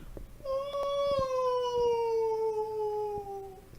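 A single canine howl, from one of a pack of dogs or wolves calling back toward a den, rises and holds as a long, clear, slowly falling wail that carries steadily for over three seconds, heard alone at a moderate distance.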